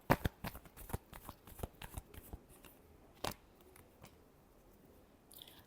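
Tarot cards being shuffled in a quiet room: a run of close, crisp riffling bursts with soft slaps between them and one sharper snap midway, no voices.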